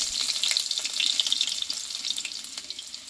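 Crushed garlic dropped into hot oil with panch phoron, frying with a steady bright sizzle and crackle throughout, close and fairly loud, with no voices.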